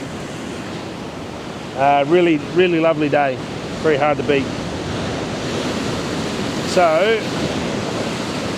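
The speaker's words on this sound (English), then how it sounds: "Beautiful crashing waves," Ocean surf crashes and rumbles against rocks at Moffat Beach, a continuous broad wash mixed with wind noise on the microphone, while someone speaks briefly over it.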